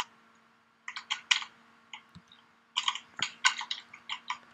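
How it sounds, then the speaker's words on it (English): A noisy computer keyboard is mashed during a fighting-game session, with two dense bursts of rapid clacking keystrokes close by and a brief pause between them, and no talk. "I'm actually picking up you mashing your keyboard again."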